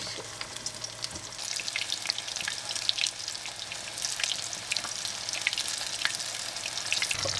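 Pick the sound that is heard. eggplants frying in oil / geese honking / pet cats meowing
eggplants frying in oil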